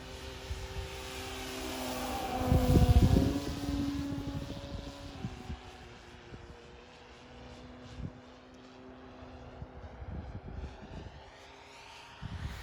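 A Hangar 9 J-3 Cub 10cc electric RC scale model airplane flies a high-alpha knife-edge circle, its propeller drone swelling loudly as it passes close, then settling into a steady, fainter hum with pitch shifts as it banks away.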